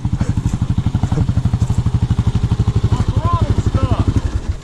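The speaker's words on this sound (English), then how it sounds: "My throttle's stuck" A Kawasaki KLR650 single-cylinder engine with a stuck throttle pounds close and loud in a fast, even rhythm of hard pulses that never lets up, with a brief voice heard near the end.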